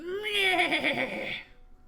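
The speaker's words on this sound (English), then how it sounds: "As the horse whinnies in rage at your action taken against its rider, it rears up." A horse in a Curse of Strahd tabletop session whinnies in rage as a sound effect: one loud, close neigh lasting over a second, its pitch wavering and then falling away into silence.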